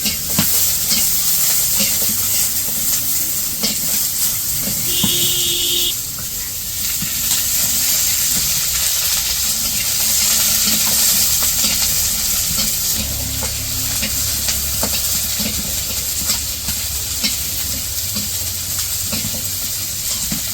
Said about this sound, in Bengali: তো এই যে পেঁয়াজ রসুন ভাজা প্রায় শেষের দিকে